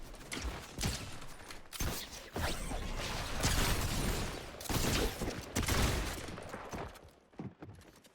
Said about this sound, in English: I'm just gonna kill you with my AR.